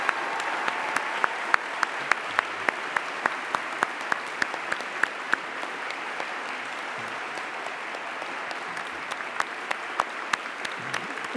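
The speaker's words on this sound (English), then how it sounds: "would you join me in giving them a massive round of applause for everything they do?" Audience applause at a Greenwich university graduation ceremony: steady, sustained clapping from a large seated crowd, even in rhythm and moderately loud throughout, with no talking over it.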